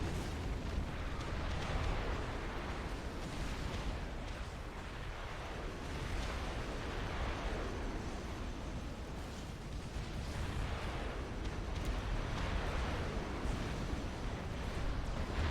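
Artillery fire and explosions from Supreme Commander, including Ravager emplacements, form a dense, continuous booming rumble that swells and ebbs without pause throughout.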